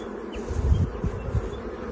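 Honeybees buzz steadily at the entrance of a beehive, a close, continuous drone with small swells as individual bees pass near.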